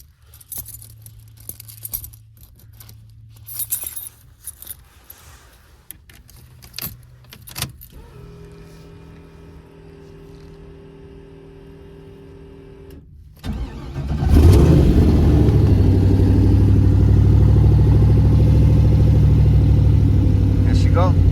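Twin-turbo LS engine in a G-body car: first keys jangle and clicks, then a steady accessory hum, then the engine cranks, catches and settles into a loud, rough idle with revs.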